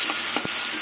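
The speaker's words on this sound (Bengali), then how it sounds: "চিংড়ি মাছ কড়া করে ভাজবো না, হালকা করে কিছুক্ষণ নেড়ে চেড়ে" Shrimp frying lightly in a pan, a steady soft sizzle with a few quick scrapes and thuds of stirring, close and alone, no voices.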